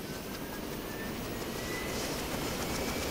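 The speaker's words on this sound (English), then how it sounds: "And we're flying a helicopter." Helicopter in the Arma 2 video game, a steady loud rotor and engine roar that fills the whole clip without a break.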